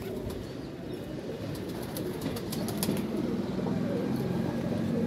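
Released pigeon flying with its female, wings flapping in repeated bursts amid outdoor ambience, moderately close with occasional faint coos.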